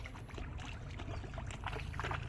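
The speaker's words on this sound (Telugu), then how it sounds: "నా పడవ వెళ్ళిపోతుంది" A small boat drifting away across a fish pond at Bhimavaram where carp are being fed, giving a faint, soft wash of water and gentle hull sounds with no talk.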